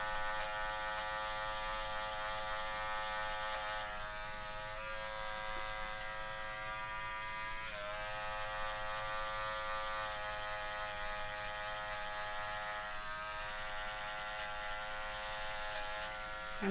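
Corded electric hair clipper buzzing steadily during a haircut, a close, constant hum that shifts slightly in pitch as it moves over the hair, with no talking.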